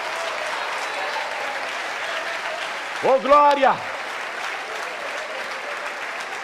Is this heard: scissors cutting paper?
no